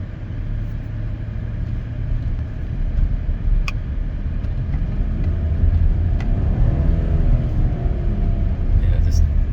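A 2017 Chevrolet Silverado engine runs with a low, steady rumble while its 6L80E transmission fails to engage first gear; the idle builds slightly louder midway and stays close and constant.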